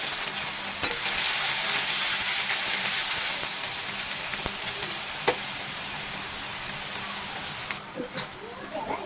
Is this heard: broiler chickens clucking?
no